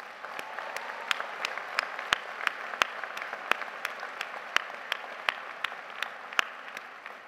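Applause at a university commencement ceremony, with scattered sharp claps standing out over a softer, steady background of many hands clapping in a large space, continuing evenly throughout.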